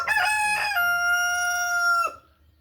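A rooster crows loudly and close by in one long, drawn-out call that stops abruptly near the end, with no talking over it.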